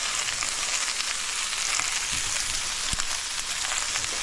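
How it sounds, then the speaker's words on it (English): Onions fry in oil and butter in a pan, giving a steady, close, crackling sizzle with a few small pops; no talking. "And then we're going to throw our onions in."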